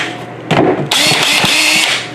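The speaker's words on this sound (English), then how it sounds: "will this battery work on this hammer drill?" A DeWalt cordless hammer drill whirs loudly, starting with a short burst and then running continuously at high speed, close by.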